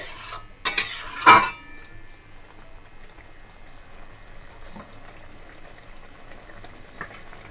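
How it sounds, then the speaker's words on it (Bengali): A spoon stirs Tengra fish curry masala with water just added, giving a few loud clattering strokes at the start before settling into a faint low simmer. "জল দিয়ে এখানে আমি হালকা একটু নাড়াচাড়া করে নেব"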